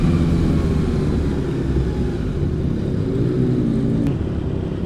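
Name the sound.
inline-four motorcycle engine revving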